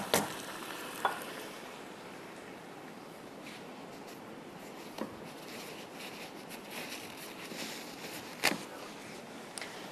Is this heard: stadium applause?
no